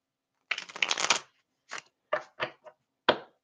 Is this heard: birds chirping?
no